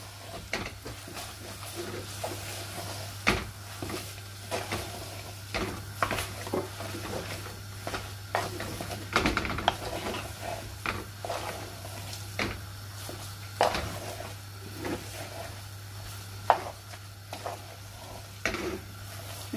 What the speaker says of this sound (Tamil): இதை நல்லா கிளறி விடுங்க.